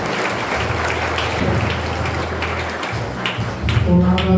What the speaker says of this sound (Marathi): टाळ्या वाजवत देवा